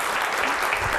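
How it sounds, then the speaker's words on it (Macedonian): Audience of about thirty people applauding together at a live television comedy show, a dense steady clatter of clapping hands filling the whole short moment, close and loud with no pauses. "Тоа се 360 дланки за аплауз"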